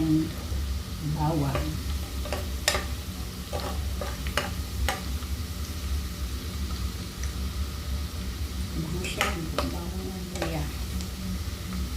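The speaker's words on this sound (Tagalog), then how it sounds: "gawin lang natin pa browning lang natin ng konti" Garlic sizzles and browns in a pan on the stove, a steady frying hiss broken by scattered pops and the scrape and clack of a utensil stirring, close and quiet with no talking.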